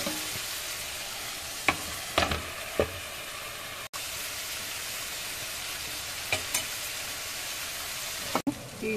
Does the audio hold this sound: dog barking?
no